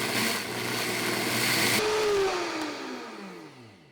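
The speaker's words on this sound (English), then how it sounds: "the Vitamix is the best way to do that" A Vitamix blender grinds a heaping cup of oats into fine powder, a loud steady whirring roar that winds down gradually as the motor is switched off and the blades slow to a stop.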